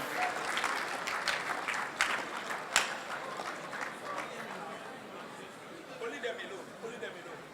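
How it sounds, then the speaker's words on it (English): Applause for a hackathon team at an awards presentation, a moderately loud audience clapping steadily for several seconds with crowd chatter mixed in, one sharper clap standing out before the clapping gradually thins. "A round of applause for The Dream."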